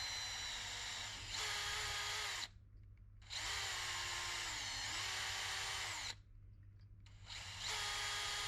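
A power drill with masking tape wrapped around its bit whines in three long bursts separated by short pauses, close and loud, with its pitch dipping under load.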